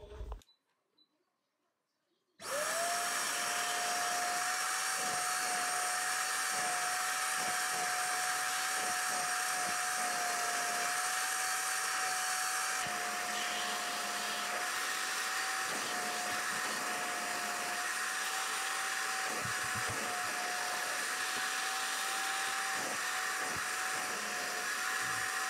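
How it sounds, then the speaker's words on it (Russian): A household vacuum cleaner runs steadily and close by for over twenty seconds, a whining motor tone with a faint shift midway, used to clean stains left by sneakers; it starts abruptly after a short quiet moment. "Сейчас я их попробую почистить своим пылесосом."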